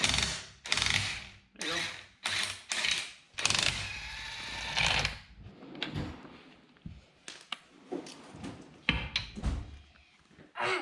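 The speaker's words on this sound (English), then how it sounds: "It's called an impact. So what happens is it makes a bunch of impacts to try and get the lug nuts off." An impact wrench hammers at the lug nuts on a 1964 Ford Falcon wheel in loud, repeated rattling bursts separated by short pauses, with brief speech near the end.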